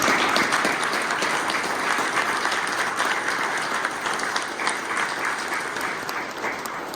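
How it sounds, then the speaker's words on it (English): Steady applause from the audience at a mayor's press conference in Brockton, sustained clapping for about seven seconds with no talk over it. "I'm going to give you and your team a round of applause, Dr. Brockton."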